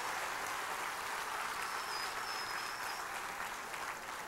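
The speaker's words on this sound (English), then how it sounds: "Let's give her a big round of applause." Audience applause at a live stage show aboard the Disney Magic cruise ship, a dense, even wash of clapping from a large crowd sustained at a moderate distance throughout.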